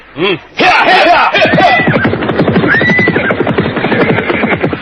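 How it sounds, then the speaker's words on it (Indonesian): Horses neigh loudly in an audio drama scene, one whinny followed by a long, rising and falling neigh close up with rapid hoof-like pulses beneath it. "Rakuti dan Rasmi segera melejut kudanya"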